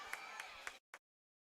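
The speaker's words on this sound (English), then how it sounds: "listen to that Stanford bench over there applauding the effort defensively" Stanford women's soccer bench applauding a defensive effort during a match against University of San Francisco, steady clapping with a few sharper claps under crowd noise, ending abruptly with one last short burst.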